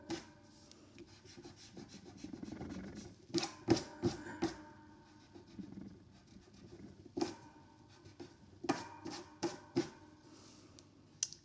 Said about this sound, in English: So I'm just going to rub out any of the lines that I don't need.